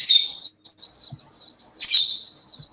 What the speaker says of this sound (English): They have to bring in Tweety Bird.